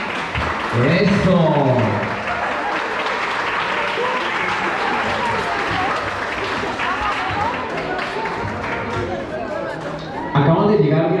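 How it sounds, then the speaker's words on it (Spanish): A theatre audience applauds loudly and continuously, with cheering voices and whoops mixed into the dense clapping, swelling again near the end. "ahí donde el público empieza a aplaudir"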